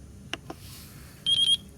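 A Taranis X7 radio transmitter beeps while binding an R9M receiver. Two quick faint clicks are followed by a single short, clear electronic beep, heard alone in a quiet room.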